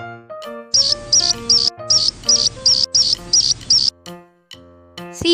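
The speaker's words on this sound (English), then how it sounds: "Blackbird." A blackbird sings a run of short, bright, high chirps in quick repeated bursts, clear and close over a steady background of music.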